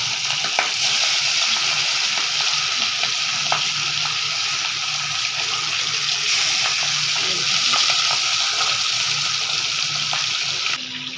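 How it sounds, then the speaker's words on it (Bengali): Katla fish pieces fry in hot oil in a wok, giving a loud, continuous sizzle and crackle with occasional faint clinks, with no talking. "এখন কাতল মাছ একটা একটা করে ছেড়ে দিচ্ছি"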